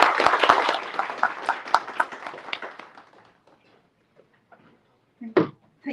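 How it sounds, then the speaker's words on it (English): An audience applauding at an international conference in Geneva, a burst of clapping that starts strong and thins out over about three seconds, followed by quiet and a few stray sounds. "Can I please get a round of applause for Eleonora Mongali?"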